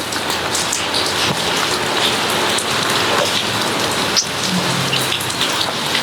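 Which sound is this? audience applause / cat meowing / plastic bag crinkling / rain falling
rain falling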